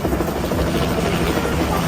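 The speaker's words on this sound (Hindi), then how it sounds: "ये हेलीकॉप्टर आप देख रहे हैं, ये हेलीकॉप्टर ये रेस्क्यू अभियान में लगाया गया है" A rescue helicopter flies over northern Nepal after a disaster, its rotor thumping and engine roaring loudly and steadily throughout, close and continuous with no other sounds.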